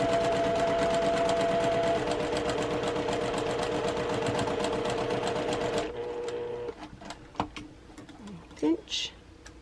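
A sewing machine stitches a quilt block in a steady, fast, loud run for about six seconds, then stops, leaving faint cooing birds and small handling sounds.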